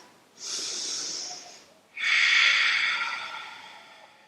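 Two deep yoga breaths during a breathing round: a long, airy inhale, a short pause, then a stronger, rushing exhale, close and quiet, with no talking.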